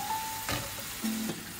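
French fries cooking in a pan, a faint soft sizzle of frying with brief tonal clinks from handling, heard alone at low level.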